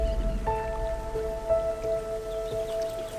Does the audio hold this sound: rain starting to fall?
yes